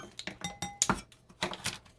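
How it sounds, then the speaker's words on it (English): Baking powder container opened during pumpkin bread baking in a kitchen, a series of short clinks and clatters of metal or plastic, close and moderately loud, with no talking. "Get my baking powder opened up"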